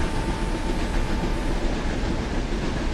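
Steady rumble and rattle of an Indian Railways train running along the track, including the Sayaji Nagari Express from Ahmedabad to Dadar, in a railway sim, with continuous loud wheel clatter and no speech.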